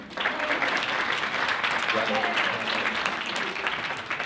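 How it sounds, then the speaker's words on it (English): Sustained, dense applause from an audience at a live cinema show during a science film hackathon in Geneva, steady and fairly close, with some voices mixed in. "applaudissons-le encore une fois pour son travail"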